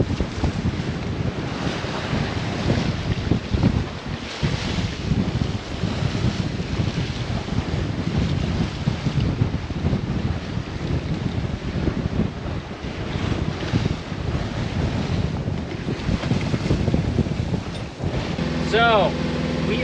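Strong wind roaring over the microphone and rough waves crashing around a sailboat crossing the Alenuihaha Channel toward the Big Island, loud and continuous, with a voice briefly audible near the end.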